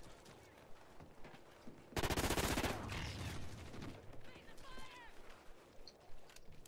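Rapid automatic gunfire from the video game Call of Duty Ghosts erupts in a loud burst, followed by softer game effects and scattered shots, with a quiet voice in the background.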